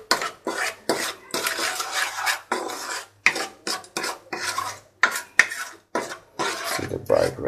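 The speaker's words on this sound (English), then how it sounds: "you better give it a nice mix first, so that we mix up the spices in here" Chicken gets mixed with spices in a bowl by hand, giving a series of close, wet rubbing and scraping bursts with short pauses between strokes and occasional clinks against the bowl.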